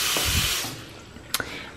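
A bathroom faucet in Bali runs with a hissing stream of water for under a second, then fades out, leaving faint small knocks and clicks.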